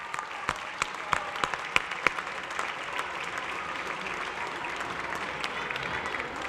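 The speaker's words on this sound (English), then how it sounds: "Let's have another round of applause for the 5th graders." An audience at a school trivia bee applauds the 5th graders, steady clapping from many hands with a few sharp, close claps standing out early, then settling into an even, sustained round.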